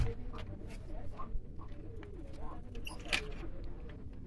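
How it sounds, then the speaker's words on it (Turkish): Pigeons in a racing pigeon loft coo softly and repeatedly, with scattered wing flutters and small shuffling noises in a quiet enclosed space, and a faint voice in the background. "Baya burada kuş var arkadaşlar."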